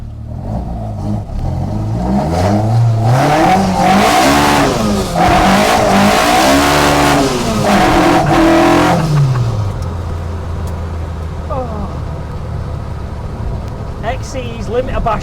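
A Vauxhall C20XE engine fitted in a Ford Escort screams up through short gears and bangs off the rev limiter repeatedly, loud and close, then falls back to a rough idle with faint tire noise.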